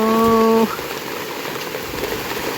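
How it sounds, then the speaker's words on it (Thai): Steady rain pours down during a storm at a rural home, a constant close hiss of drops on surfaces, preceded by a short tonal chime at the very start. "ฝนตกพี่น้องเนาะฝนตกแห้ง"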